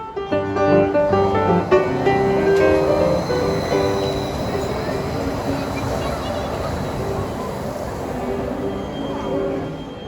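Train-like rumble and rolling rail noise of a monorail at Disney, loud and steady throughout, with voices and crowd chatter mixed over it.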